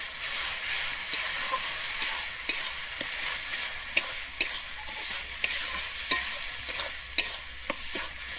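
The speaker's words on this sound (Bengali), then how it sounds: "পটলটা দিয়ে কিন্তু আমি খুব ভালোভাবে মিশিয়ে নেব।" Mashed pointed gourd mixed in a pan with no added water, a steady close scraping with sharp spoon taps against the pan every half second or so over a constant background hiss.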